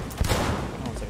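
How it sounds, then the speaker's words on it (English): Rapid, dense gunfire from a shotgun pistol in the video game Cyberpunk 2077 fills the moment, loud and continuous, with a voice talking over it. "Oh, it's like a shotgun pistol."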